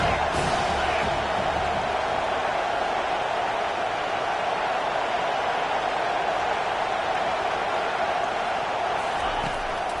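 A college football video game stadium crowd roars steadily on a big third down, a broad, continuous wash of distant cheering that holds at an even level throughout.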